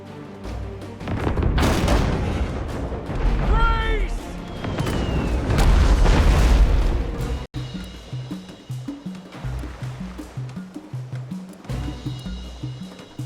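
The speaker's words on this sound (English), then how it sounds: "it looks like the enemy has a ship smasher mortar which causes a brace for impact test" An enemy ship smasher mortar fires in the naval video game Abandon Ship: loud, rumbling booms and dense, chaotic battle effects fill the first seven seconds, then break off abruptly into steady, rhythmic game music.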